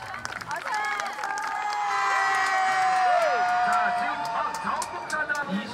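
Crowd at a neighborhood school sports day clapping and cheering as participants enter, with children's shouts and whoops rising over steady applause, mixed with voices throughout.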